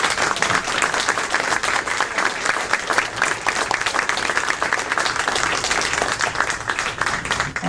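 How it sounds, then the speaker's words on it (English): Sustained audience applause at a candidate forum in Winter Park, a dense, steady wash of many hands clapping that fills the whole stretch at even loudness, with no talk over it. "Now's the time to applaud."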